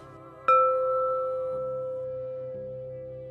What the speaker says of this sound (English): If you have access to an instrument that can make the note of C, like this crystal bowl